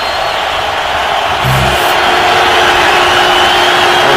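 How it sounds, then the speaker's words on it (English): Stadium crowd at a New England Patriots at Miami Dolphins NFL game in 2012 makes a steady, loud, continuous roar with a brief swell partway through and no clear talking. "The crowd's getting into it here."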